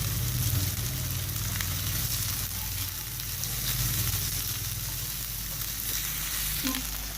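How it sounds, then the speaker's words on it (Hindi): Onion, capsicum and carrot frying in a pan with a steady, continuous sizzle and soft crackle, close by and alone, with faint stirring scrapes throughout. "अब इसमें डालेंगे शिमला मिर्च और गाजर, जो कि बारीक काट लिया था बिल्कुल हमने। इसको भी मिक्स कर देंगे इसमें।"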